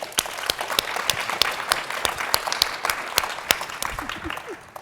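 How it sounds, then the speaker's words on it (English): An audience at a panel on California's economy gives a round of applause: dense, steady clapping from a room full of people, even and sustained for several seconds before tapering slightly at the end. "Let's give them a round of applause."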